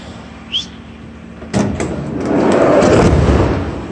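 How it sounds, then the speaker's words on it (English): The cargo door of a 2017 Ram ProMaster 1500 van slides along its track. A sharp metallic thunk is followed by a loud rolling rumble that swells and then settles, with no voices. "Here's what your sliding door looks like."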